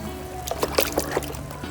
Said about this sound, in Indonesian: Kita cuci-cuci sampai bersih.